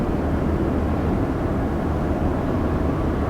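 2019 Toyota Land Cruiser SUV accelerating from a stop, a steady low engine drone heard from inside the cabin, continuous and moderately loud with no talking.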